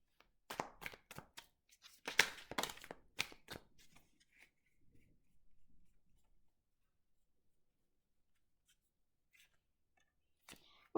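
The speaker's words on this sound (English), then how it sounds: "Let's try and give these cards a really good shuffle." Tarot cards being shuffled: quiet, crisp riffling and flicking bursts over the first few seconds, then a few soft taps and near silence.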